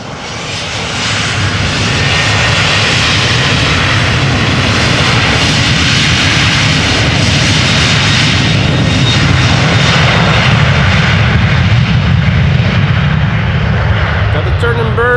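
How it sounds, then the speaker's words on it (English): A Transavia Boeing 737-800 taking off from Amsterdam Schiphol on a rolling start, the jet roar swelling within the first second or two and then holding loud and sustained, with a voice talking over it. "Rolling start going there. Transavia flight 6423 737 800."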